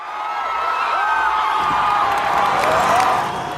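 A crowd cheers and shouts with joy as statues of colonisers and slave traders are toppled, a steady roar of voices with whoops rising over it, fairly loud throughout.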